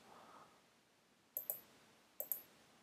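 Two quick pairs of sharp computer mouse clicks sound close and crisp against near silence, the second pair coming about a second after the first.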